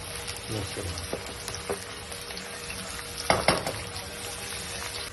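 Garlic ginger paste sizzles and crackles in a hot pan, a constant frying hiss broken by a few louder bursts as it is stirred.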